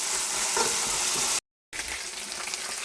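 Garlic frying in a pan while cooking biryani, a steady broadband sizzle with light stirring, broken by a brief moment of silence midway before the sizzling resumes.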